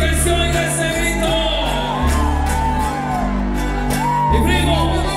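Women in a concert crowd shout and whoop at a live conjunto norteño show, loud and sustained over the band's music with a voice speaking over it.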